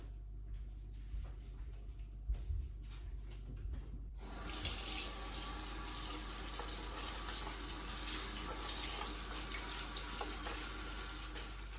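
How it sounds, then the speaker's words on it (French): Green beans are rinsed under a cold kitchen tap; after a few seconds of small clatters, the water bursts on and runs steadily and loudly into the sink until the end. "On va aller tout simplement les laver à l'eau froide."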